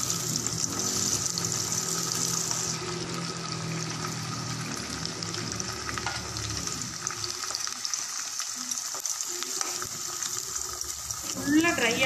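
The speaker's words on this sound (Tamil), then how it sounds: "இதில் வந்து இதை கொஞ்சம் கொஞ்சமாக போட்டு நல்லா பொரித்து எடுத்துக்கலாம்." Long-cut okra (ladies finger) fries in hot oil for a hotel-style fry, a steady bubbling sizzle at close range that thins out toward the end, with no clear voices over it.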